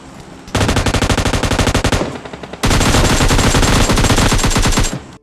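Automatic gunfire in the video game PUBG Mobile Lite, two loud sustained bursts of rapid shots separated by a short pause, close and dominant.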